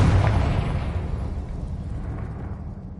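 A Confringo spell explosion in the game Hogwarts Legacy, a loud, deep boom that rolls off into a fading rumble over a few seconds, with no talking.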